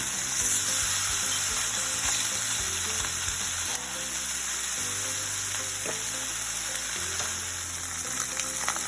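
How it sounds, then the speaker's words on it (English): Steady, loud sizzling of Spam frying in a pan, a continuous crackling hiss with occasional pops and faint clinks, no voices. "that's what you want to hear, nice sizzle to your spam"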